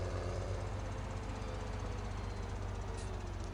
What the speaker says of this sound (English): we'll jump in to the Massey Ferguson